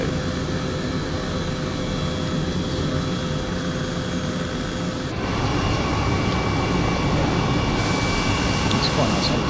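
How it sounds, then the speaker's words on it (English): A helicopter on a flight back toward the delta gives off a continuous, loud engine and rotor drone that shifts slightly in tone partway through and holds steady to the end. "It's quite a nice helicopter."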